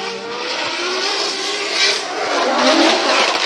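A Formula Drift race car's engine screams loud and sustained through a drift run, a steady roaring whine with a slight rise and fall in pitch.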